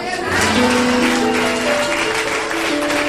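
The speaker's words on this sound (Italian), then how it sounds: "per cui un altro applauso" Audience applause fills a theatre at a live Daniele Si Nasce show in Rome, a dense, steady wash of clapping over faint lingering tones.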